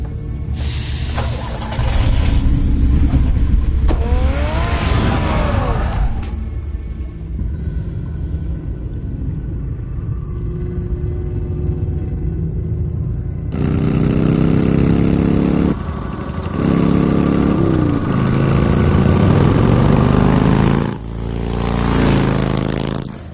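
A car engine in the Batman Telltale video game starts up and rumbles loudly, revving as it drives off, with bursts of engine roar and scraping interrupted by a quieter idling stretch.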